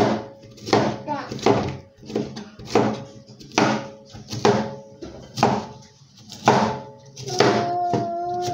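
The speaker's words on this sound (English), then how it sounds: "I want to blend the plantain. That is why I'm cutting it like this" Knife chopping plantain on a board for blending, a series of firm, fairly close taps spaced through the stretch, with a voice talking over them.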